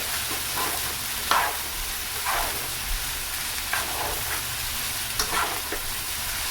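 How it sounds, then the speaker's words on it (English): Fresh homemade noodles with egg and peas fry in a pan, a steady hissing sizzle with repeated soft scraping stirs at a gentle, irregular pace, close and with no talk. "Just kind of mixing the egg and the peas into the noodles"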